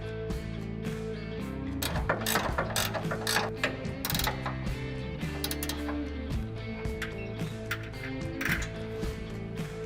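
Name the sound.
tightening 18mm nuts onto bolts of bed step bolt plate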